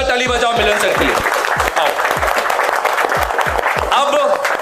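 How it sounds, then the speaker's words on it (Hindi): An audience claps loudly for a teacher at a student CPU-building competition class. The applause is a dense, sustained wash from start to finish, with low thumping beats running underneath. "एक बार जोरदार ताली बजाओ मिलन सर के लिए।"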